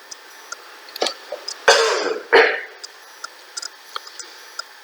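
A couple of harsh throat-clearing coughs, close and loud, separated by a brief pause, with faint ticking clicks in an otherwise quiet room.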